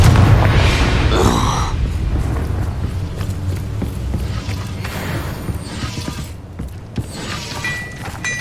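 Confringo explosion spells in Hogwarts Legacy burst as several heavy booms with crackling debris and mechanical rumble, the loudest hit near the start followed by softer impacts and clatter.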